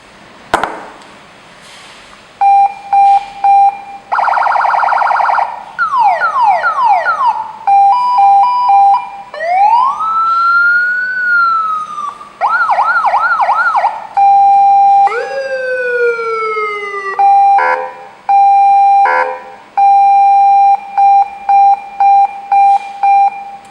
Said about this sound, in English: this Siren is 100-watt remote cable control. It has 6 sorts of home tones.